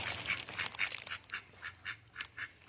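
Ducks quack repeatedly at moderate distance beside a path near a school, a series of short nasal calls in an irregular rhythm over faint outdoor background.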